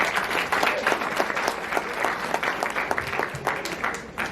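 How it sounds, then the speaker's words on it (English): An audience applauds at an elementary school fifth-grade graduation, a steady patter of many hands clapping for several seconds with no speech over it. "Let's give him a warm round of applause."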